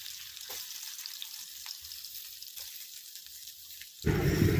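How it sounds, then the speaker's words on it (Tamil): Peeled, cut potatoes fry in plenty of oil in a wok with curry leaves, a soft continuous sizzle with faint stirring scrapes, ending in a sudden louder burst of sizzling and clatter. "தோல் சீவி கட் பண்ணி வச்சுருக்கிற உருளைக்கிழங்கு போட்டு கொஞ்சம் நல்லா கிளறி எடுத்து"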